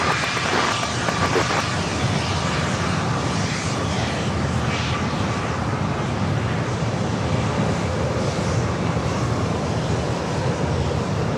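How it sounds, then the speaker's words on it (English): A Gulfstream G650ER business jet takes off at San Diego airport, its engines giving a loud, continuous roar that stays steady and close throughout, with wind rushing across the microphone. "Gulfstream up next for takeoff"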